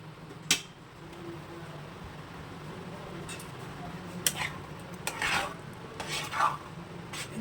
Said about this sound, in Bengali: নাড়িয়ে নাড়িয়ে এটাকে আমি শুকিয়ে নেব পুরোটা